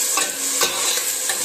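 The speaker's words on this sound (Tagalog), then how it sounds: "Sibuyas na lang ang ating ilagay guys. Ayan guys, luto ng ating sibuyas." Chopped onions sautéing in a hot pan for a home-cooked okra dish, a steady close sizzle and crackle with faint stirring scrapes, no talking.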